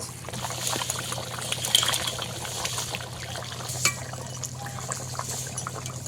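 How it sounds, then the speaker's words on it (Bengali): Fried fish pieces go into a boiling fish curry broth with cauliflower, producing a steady wet bubbling and crackling with a few splashier moments, close and moderately loud over a low hum, with no voices. "এবার আবারও ভালো করে ফুটিয়ে নেবো গেছে এই পর্যায়ে দিয়ে দেবো ভেজে রাখা মাছ"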